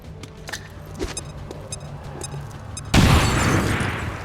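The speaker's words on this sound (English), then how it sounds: "Throwing grenade!" A grenade explodes in XCOM 2 War of the Chosen: after quiet clicks and light footsteps, a sudden loud, close blast bursts out and rumbles on as a broad roar for over a second.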